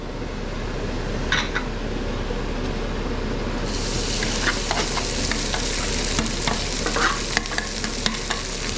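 Rice stir-fried in oil in a hot wok for house special fried rice gives a loud, steady sizzle that grows fuller partway through, with scattered scrapes and clinks of the spatula against the metal.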